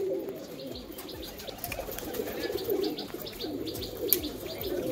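Dense, continuous cooing from around two hundred pigeons in a room-sized cage, a low overlapping drone of many birds with occasional chirps and wing sounds, close and steady.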